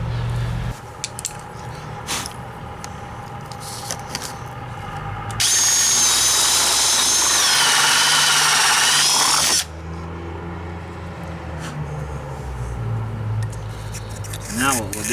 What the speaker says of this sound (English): we'll go on the inside and finish drilling through